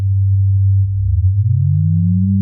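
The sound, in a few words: synthesizer sine wave tone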